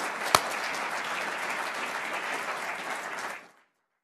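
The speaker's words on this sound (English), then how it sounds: "So we will give you an applause for all your hard work." Audience applause at a lecture, an even wash of many hands clapping at moderate distance, holding steady for about three seconds before cutting off abruptly.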